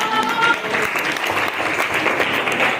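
Steady applause from a madrasah classroom full of people clapping together, close and even in loudness from start to finish.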